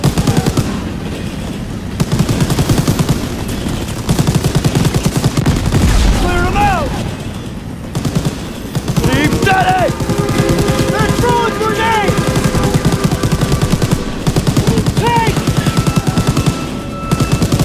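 Rapid bursts of gunfire in Call of Duty: WWII rattle continuously with booming impacts, pausing briefly now and then, while voices shout over the chaotic battle noise near a train.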